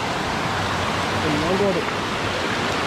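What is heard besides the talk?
waterfall flowing, Sirsi-Siddapur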